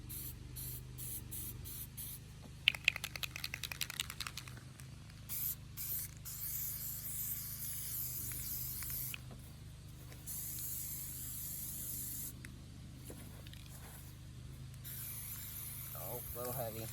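Aerosol spray paint goes on as a first light coat, heard as a series of close hissing bursts of varying length with short pauses between, plus a few clicks and rattles of the can.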